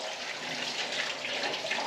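Liquid pours from a bottle into a sink, a steady, fairly loud splashing hiss that runs unbroken the whole time with no talk.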